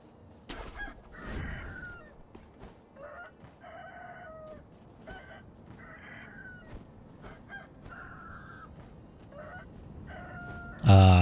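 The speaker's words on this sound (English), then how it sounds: "There's a chicken." A chicken in the video game Sekiro: Shadows Die Twice clucks in short scattered bursts over quiet game ambience, moderately faint, with a louder sharp sound at the very end.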